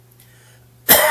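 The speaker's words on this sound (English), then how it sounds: "I'm coughing again." A single sharp cough bursts out near the end after a quiet stretch of near silence, loud and close to the microphone.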